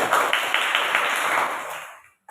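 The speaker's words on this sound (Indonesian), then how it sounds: "Tepuk tangan buat kelompok 1." A classroom group claps for the first team, a dense burst of applause about two seconds long with a few sharper claps inside, fading out quickly at the end.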